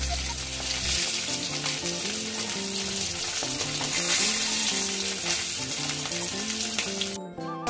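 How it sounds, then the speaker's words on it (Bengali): Dried chili frying in hot oil alongside a fried hilsa fish head, a dense continuous sizzle throughout with a melodic music track playing over it. "ইলিশ মাছের মাথাটা আমার ভাজা করা হয়ে গেছে, এবার ফোড়নে দেবো একটা শুকনো লঙ্কা।"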